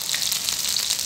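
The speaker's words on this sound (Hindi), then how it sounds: "अब मैं आधा चम्मच डाल रहा हूँ अदरक पेस्ट" Half a spoon of ginger paste sizzles in hot oil for a spicy pabda fish curry, giving a loud, dense, unbroken frying hiss.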